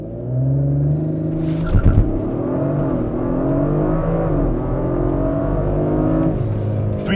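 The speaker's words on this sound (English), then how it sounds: "We are going to turn traction control fully off just so we can get that launch control, and then we're going to try it right here" Audi RS5 Competition Plus launching hard with launch control and traction control off, the engine roaring loudly and continuously from inside the car as revs climb through gear changes, with a brief clunk early on.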